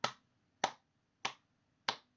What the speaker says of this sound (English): Sarcastic clap.